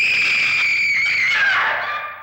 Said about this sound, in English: eventually we start hearing screams from the television